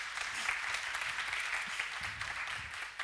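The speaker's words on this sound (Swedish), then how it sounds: "En applåd, ja." Sustained audience applause fills a conference hall after a talk on connectivity for safer mines, a steady dense clapping that holds at even loudness throughout with no voices over it.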